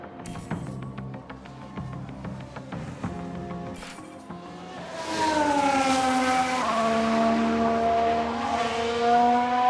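An F1 car in F1 Manager 2022 with a steady engine drone that rises into a louder, sustained high whine of tyre lock-up, close and continuous over a background of game sound.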